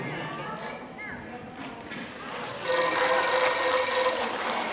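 A telephone rings with bright, warbling chirps that grow louder and more sustained partway through, set in a noisy room with voices and movement around it.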